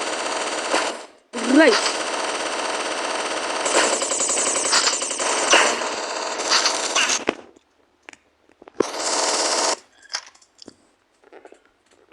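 A minigun in a video game fires in long, dense bursts of rapid gunfire, loud and close, broken by short pauses and quieter sounds in between, with a brief spoken word heard.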